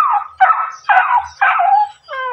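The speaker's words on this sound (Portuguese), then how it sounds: "os cachorrinhos latem" Small dogs barking and yipping close by in a quick series of four or five sharp, high bursts with brief gaps between them, loud and alone without talk.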